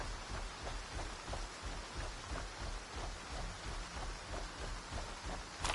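Steady rainfall in a video game, Stalker 2, patters continuously, a soft even hiss with faint drops, no voices.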